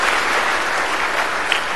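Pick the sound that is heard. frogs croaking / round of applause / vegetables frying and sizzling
round of applause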